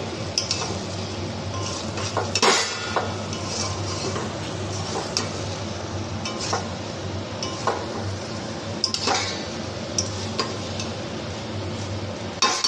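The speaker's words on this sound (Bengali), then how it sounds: "এখন চালটাকে একটু এই গ্রেভির সাথে কষে নেব।" Rice fried and stirred with gravy in a pot for chicken khichdi, a steady background hiss broken by repeated scraping and clinking of a spoon against the pan, close and irregular, with no talk.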